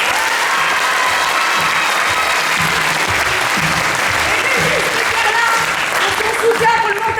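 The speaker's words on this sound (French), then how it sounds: "Un énorme applaudissement pour Tom Mila et Zenouk pour la musique!" Loud, dense applause from a crowd fills the whole stretch for the musicians Tom Mila and Zenouk at an arts-centre evening event, steady and close, with faint voices mixed in.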